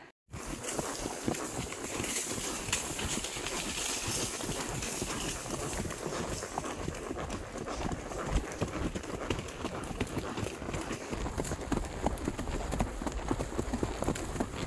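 Horse hooves clip-clop steadily on a hard surface during a ride, a continuous close rhythmic beat of walking steps with no speech over it.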